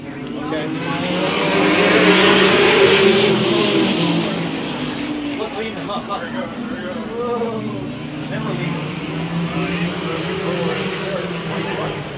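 Stock cars of the MASCAR Tour roar around an oval in a 10-lap heat, a loud engine drone that swells and eases as the pack passes, under a commentator's continuous talk.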